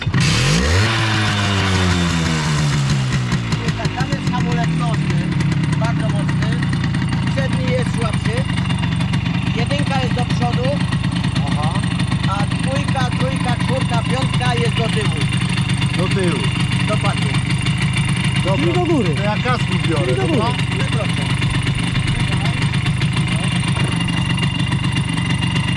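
Simson motorcycle engine starting with a rising rev, then settling into a steady, loud idle with brief throttle blips, heard up close while people talk over it.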